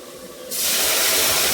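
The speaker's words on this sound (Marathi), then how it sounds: "आता फक्त आपण पाणी ओतू त्यामध्ये" Water poured into a hot pan of sautéed potatoes for a fasting bhagar dish erupts into a loud, steady steaming hiss after a brief quieter moment and keeps going without any talk.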